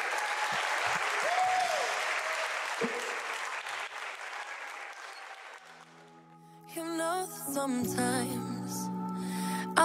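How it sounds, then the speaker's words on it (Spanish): Loud applause and cheering from wedding guests at a reception in a conference center in Chantilly, Virginia, with a brief whoop, fading after several seconds into a quiet gap before music starts. "que se escuche el aplauso fuerte"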